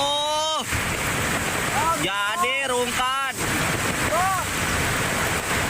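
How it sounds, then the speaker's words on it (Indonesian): A swift, flooding Cidadap River current surges with a loud, continuous roar, and several people talk over it throughout. "terbawa arus sungai. Sangat deras, sangat sekali"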